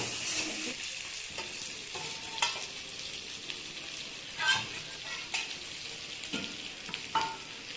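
Chopped onions fry in a pan while a spoon stirs them, producing a continuous soft sizzle broken by periodic scraping strokes close up, with no talking.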